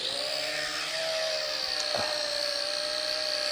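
Potensic D58 sub-250g GPS camera drone with motors whirring steadily at a constant high pitch during auto takeoff, a continuous near buzz with no talk.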